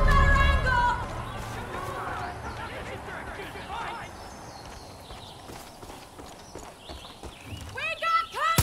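Horse hooves clip-clopping in Far Cry 5, a quick rhythmic patter of hoofbeats under game sounds and spoken voices, with a whinny-like call near the start and chirpy tones toward the end.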